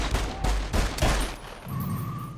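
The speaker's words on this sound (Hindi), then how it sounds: "हमारा शूटर 6 गोलियां चलाता है" A burst of gunfire as a shooter pulls alongside a car and fires six rounds, the sharp cracks coming in quick succession, loud and close, before fading into a low rumble and hiss.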